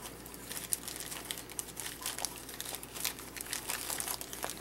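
A plastic bag crinkles as it is squeezed through a cut-off bottle cap, an irregular close crackle of crumpling plastic, quiet and steady, with no talking.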